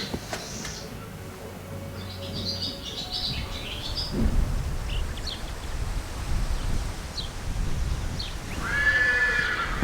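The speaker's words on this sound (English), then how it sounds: "it's just a big field full of horses, like lots of horses" At a stallion farm with a big field full of horses, whinnies and neighs sound out now and then over steady outdoor noise and light hoof clatter, with faint birdsong mixed in.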